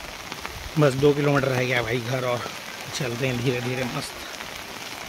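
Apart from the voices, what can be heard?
sudden rain falling during a morning run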